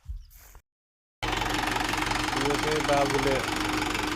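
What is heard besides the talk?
tractor rotavator covering planted maize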